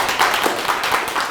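A seminar audience at a humanities academy talk gives a brief round of clapping. It is short and moderately loud, with a few distinct claps standing out in the patter.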